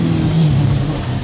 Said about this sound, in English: I'm going to watch for these cars coming past